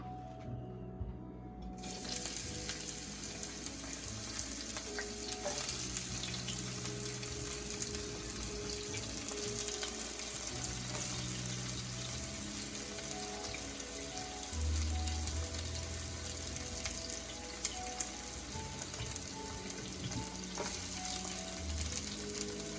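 Onions sizzle steadily in a frying pan for a mushroom dish, a continuous crackling hiss that stays close and even throughout, with occasional soft clinks and stirring sounds and no talking.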